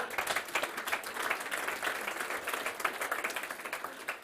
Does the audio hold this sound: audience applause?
yes